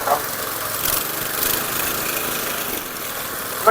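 A chain power weeder's small engine runs steadily in a garden field, a close, loud buzzing drone with slight swells in revs.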